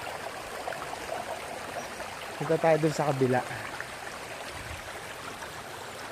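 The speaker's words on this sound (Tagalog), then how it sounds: "Sarap ng tunog ng ano, ng tubig." A stream at a mountain campsite gives a steady, soft rushing wash of flowing water that continues unbroken, while someone speaks briefly partway through.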